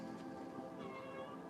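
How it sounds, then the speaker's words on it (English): A pet cat meows faintly in the background of a quiet room, a couple of soft drawn-out cries. "You guys hear my cat?"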